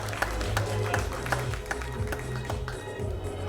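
Stage audience applauding for Ritesh Pandey at a Bhojpuri OTT platform launch, a steady dense patter of claps at moderate distance over a low music bed.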